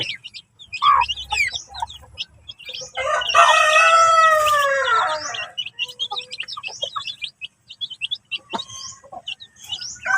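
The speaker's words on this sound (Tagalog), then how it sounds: "Ayan, ang cute ng mga sisiw mga ka-farming." Rhode Island Red chicks and chickens on a farm: dense high chick peeping throughout, with a loud drawn-out rooster crow in the middle, close by and without talk.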